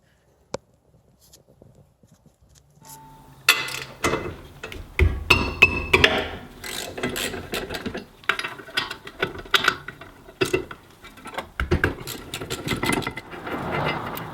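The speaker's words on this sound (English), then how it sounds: "Next thing you need to do is take these two bolts off right here." Bolts being removed from the brake caliper bracket of an Audi A4 B6 during a brake replacement, heard as a series of close metallic clanks, knocks and ratcheting clicks with irregular rhythm, no talking.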